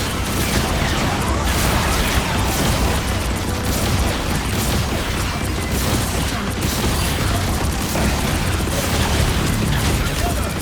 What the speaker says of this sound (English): Anyone say fireworks?